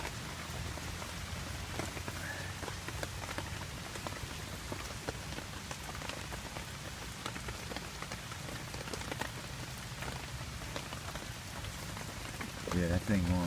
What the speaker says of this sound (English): as you can hear, it's raining pretty good.